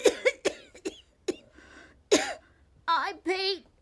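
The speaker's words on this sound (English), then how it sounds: "I've been coughing all night." A series of harsh, close coughs come in quick bursts, followed by a few strained, raspy vocal sounds.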